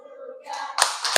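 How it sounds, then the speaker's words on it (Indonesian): A few sharp hand claps ring out in a classroom after a brief murmur, two or three distinct slaps close to the listener. "Tepuk tangan."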